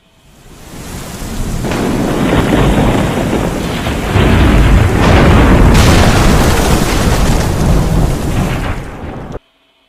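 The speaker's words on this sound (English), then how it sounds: "all this thunder and lightning." Heavy thunder rolls and booms over steady pouring rain, loud and close, building and surging for several seconds before cutting off abruptly.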